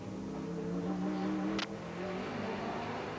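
GT race car at Road Atlanta during a 2003 Speed GT round in damp conditions, engine droning at a distance with a steady tone that shifts partway through, faint and distant with no talk.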